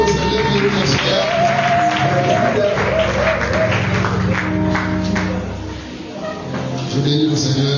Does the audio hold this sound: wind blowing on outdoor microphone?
no